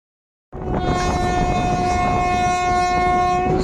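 A passenger train on the Tirupati to Kadiri line rumbles steadily after a brief silence, its horn sounding a long sustained tone over the continuous rolling noise.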